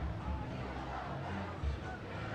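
A large rally crowd for Bernie Sanders in Sioux Falls, South Dakota, roaring and cheering in a continuous dense wash of voices, loud and unbroken throughout.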